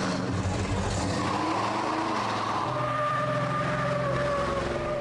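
The General Lee, a Dodge Charger with a 375-horsepower V8, revs loudly and close, its tires squealing in a skid as the engine note climbs and wavers, with no voices over it.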